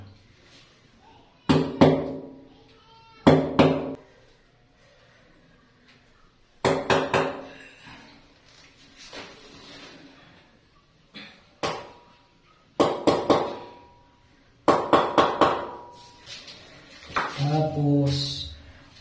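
Concrete nail hammered into slippery tile when fitting a bowl and sink: separate bursts of sharp metallic taps, several quick strikes per group, close and fairly loud, with quiet pauses between and brief sounds of handling.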